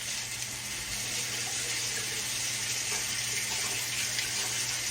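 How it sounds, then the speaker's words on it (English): Tap water runs steadily into a kitchen sink as hands are rinsed under it, a continuous close hiss of flowing water with no speech. "Let me rinse my hands off."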